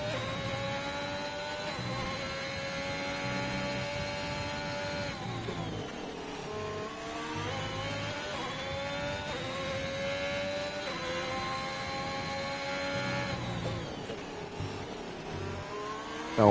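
A race car laps Imola in a racing game, its engine whining steadily with repeated rising and falling pitch sweeps as it shifts through gears and brakes for corners, continuous and clear.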